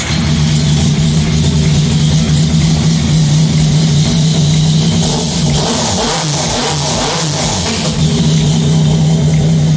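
A Yamaha MT-09 motorcycle engine, just repaired after an electronic throttle fault, runs loud and close with sustained revving and throttle swells, no talk.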